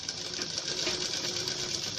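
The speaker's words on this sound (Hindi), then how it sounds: "फोल्ड करके इसमें यहाँ पर सिलाई लगा देंगे पूरे नेक पर" A sewing machine runs steadily while stitching along the boat neck of a blouse, giving a close, continuous whirring hum that holds at an even speed for the whole stretch.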